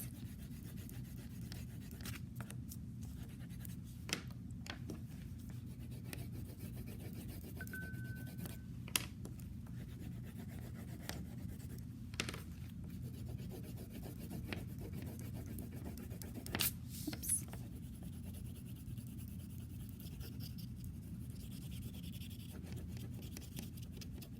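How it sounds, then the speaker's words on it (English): Coloring back and forth on a pumpkin makes faint, close scratchy strokes that repeat steadily, with occasional small taps. "I'm going to do that just by kind of coloring back and forth and adding different colors."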